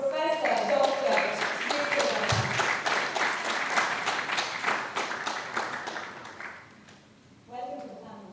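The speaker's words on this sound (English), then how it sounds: "Please give a warm applause" An audience at an SRM Institute panel on careers in AI, policy and digital governance claps to welcome a panel speaker, a dense, steady applause that fades out, followed by a brief voice.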